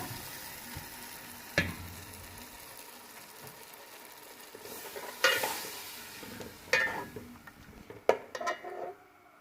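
A kadhi curry mixture of yogurt and gram flour cooks in a pan with spices, sizzling steadily while a spoon stirs and scrapes against the metal, with occasional sharper clinks.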